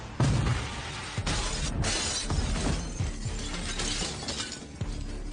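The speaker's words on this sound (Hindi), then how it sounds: "सभी खिड़कियों के टूटने के साथ" Glass windows shattering all at once, a dense crashing burst of breaking panes with scattered tinkling debris that continues loudly and steadily throughout, with no voices.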